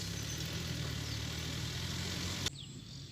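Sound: farm tractor engine revving

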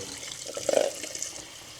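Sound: cold water poured over boiled eggs

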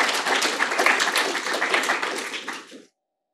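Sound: audience applause after talk

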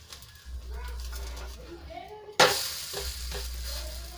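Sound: snack cooking in a pan, flipped over

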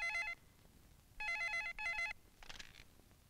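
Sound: telephone ringing

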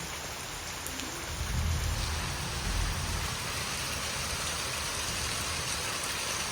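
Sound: heavy monsoon rain

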